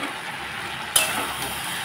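Food fries steadily in a pan with a constant sizzle, then a sharp scrape of stirring near the middle.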